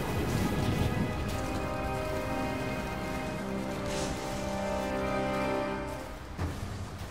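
Steady storm rain pours in the Rise of the Tomb Raider video game, a dense hiss of downpour with low rumbling underneath, continuous and fairly loud throughout.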